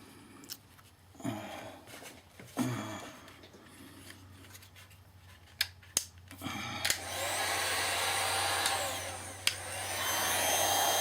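Heat gun blowing hot air to shrink heat shrink tubing on motor wires during an RC car motor upgrade, a steady whooshing rush that starts after some handling clicks and rustles and holds to the end.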